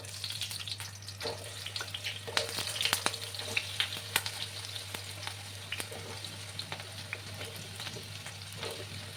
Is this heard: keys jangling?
no